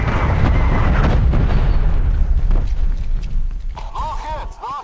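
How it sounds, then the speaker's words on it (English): Artillery strike in Call of Duty Black Ops Cold War multiplayer, a loud sustained rumbling roar of explosions close by, fading out while higher game effects chirp near the end. "SATCOM, get some artillery inbound on my cohorts."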